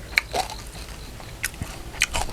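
Crispy pork eaten with Thai papaya salad crunches loudly between the teeth, a few sharp bites and crackles spread over a couple of seconds, close to the ear.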